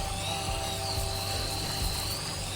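Electric bottle brush spinning inside a large bottle, a steady close motor whir with a high buzzing tone that holds evenly throughout.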